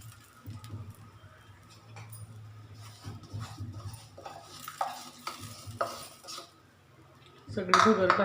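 A spoon scrapes and knocks against a pot while barnyard millet (bhagar) khichdi is stirred in hot water, irregular clinks and scrapes over a low hum, ending in a louder burst of sizzling and clatter.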